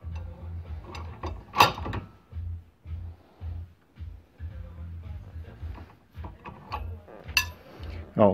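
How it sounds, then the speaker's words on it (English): A breaker bar is hand-cranked on a ball joint of a 2003 Dodge Durango, giving a steady series of low ratcheting clunks and metallic clicks in repeated strokes, close up with no talking. "I'm just hand cranking it instead with the breaker bar in hopes that, you know, she won't pop off"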